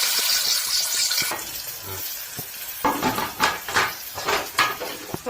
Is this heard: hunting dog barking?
no